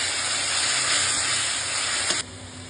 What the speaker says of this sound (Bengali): আর একটু পেঁয়াজ গ্রেট করে রেখেছিলাম ওটা দিয়ে দিলাম। দিয়ে ভালো করে কিছুক্ষণ ভেজে নেব।